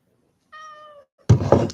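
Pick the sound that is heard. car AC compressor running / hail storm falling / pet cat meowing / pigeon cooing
pet cat meowing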